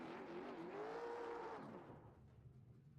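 Late model stock car engine wailing in a burnout on the New Smyrna front stretch in iRacing, a loud rising-then-falling engine tone with tire noise that fades into quieter idle rumble after two seconds.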